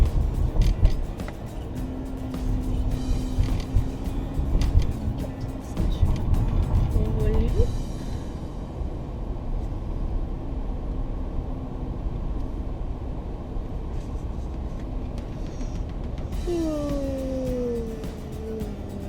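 Road traffic with cars passing nearby, a continuous rumble of engines and tyre noise, with people talking over it.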